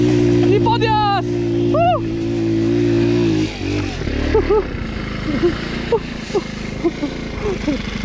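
An enduro-tuned scooter climbing a hill off-road, its small engine revving hard in rising and falling whines close to the rider, then chopping into short bursts as it labours uphill.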